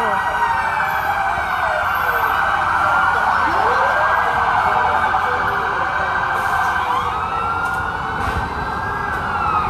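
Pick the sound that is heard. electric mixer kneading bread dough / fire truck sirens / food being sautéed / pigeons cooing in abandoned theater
fire truck sirens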